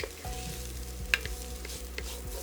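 Finely minced garlic sizzles in a hot pan for a red beans and rice dish, making a soft, steady frying hiss with a few light clicks of stirring. The sound is close and fairly quiet, with no talk.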